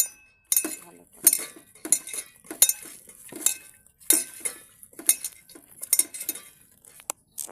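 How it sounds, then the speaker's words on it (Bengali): Spiced meat being mixed by hand in a bowl to marinate, heard as repeated close clinks and scrapes against the bowl in an uneven rhythm, with no talking. "এবার আমি একে ম্যারিনেট করে নেব ভালো করে।"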